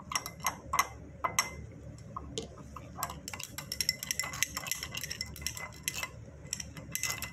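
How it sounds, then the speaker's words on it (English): A glass stirring rod stirs distilled water in a glass beaker, making repeated bright clinks and taps against the glass in an uneven rhythm, close and clear with no talking. "gradually add it to beaker 1 while stirring with a glass stirring rod."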